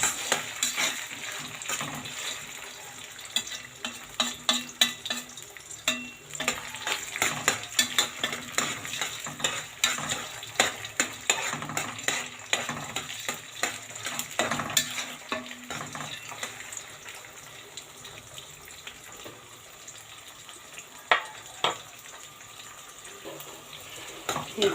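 Washed, drained Egyptian rice fries in ghee and oil in a pot while being stirred, a soft continuous sizzle with frequent scraping and clinking of a spoon against the pan, close and fairly quiet, with someone talking at times.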